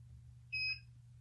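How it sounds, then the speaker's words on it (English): A single short electronic beep from a KONNWEI KW850 OBD2 car scanner finishing a software update, a thin high-pitched tone lasting about a quarter second over a low background hum, near and clear. "So then you'll hear a little audible beep, and that's your scanner"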